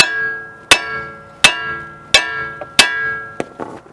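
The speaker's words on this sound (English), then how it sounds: "what I like to do is hit right here on the side" A small sledgehammer strikes the side of a tie rod end to knock it loose, five sharp metallic clangs at a steady pace, close and loud, followed by a couple of lighter taps.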